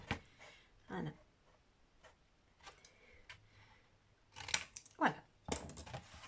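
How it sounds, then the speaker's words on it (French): Scissors snipping material while making an American-style mailbox craft, a few faint, sharp cuts scattered among quiet handling noises, with soft talking in the room. "c'est trop grand, je vais couper"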